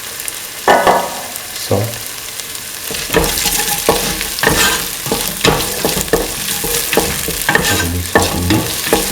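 Garlic and salt sautéing for chili duck, with steady sizzling and repeated loud scrapes and clatters of a spoon stirring through the pan, and a brief voice at the start.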